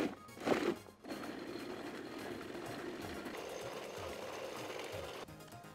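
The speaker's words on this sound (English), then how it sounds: "I'm gonna start out by pulsing the watermelon to kind of chop it up, and then we're gonna puree it until it's smooth" A food processor whirs steadily as it purees watermelon, after a short burst at the start, a close, continuous motor drone that runs for several seconds before cutting off near the end.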